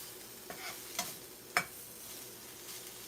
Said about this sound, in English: And I'm going to just stir that up.